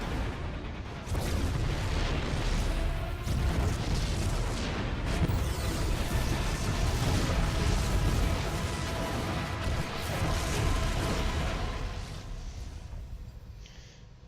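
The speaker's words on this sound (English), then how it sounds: "The explosions have stopped." Dense, continuous booming explosions and rumbling blasts from the video game StarCraft II: Heart of the Swarm, loud and sustained before tapering off toward the end.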